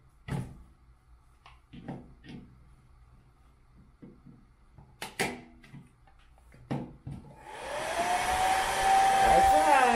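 Scattered clicks and clatters of handling come first, then a blow dryer switches on and runs loud and close with a rising whine and a steady airy roar to the end.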